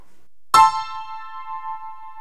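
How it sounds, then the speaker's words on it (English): A Yamaha PSR SX700 keyboard voice shifted up one octave by a foot pedal sounds a single bright, bell-like note that strikes sharply and then rings on steadily, clear and close, with no other sound. "Once I press the right pedal, the octave increases by 1."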